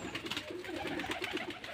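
A Rajshahi Giribaz pigeon on a Bangladeshi pigeon farm coos softly in one brief, faint, throaty burst, heard alone without speech.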